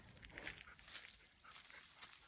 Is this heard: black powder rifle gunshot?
no